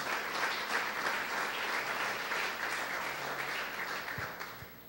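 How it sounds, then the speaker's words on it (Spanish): A church congregation applauds during a sermon, a steady, even wash of many hands clapping at moderate volume that carries on for the whole stretch and tapers slightly at the end. "¿Cuántos aplauden el nombre del Eterno?"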